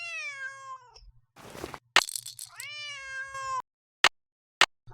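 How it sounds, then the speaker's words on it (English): A cat in the video game Nancy Drew: Secret of the Old Clock gives two drawn-out meows separated by a short rustle, followed by a couple of sharp clicks in otherwise quiet surroundings. "Otherwise, he'll just keep meowing."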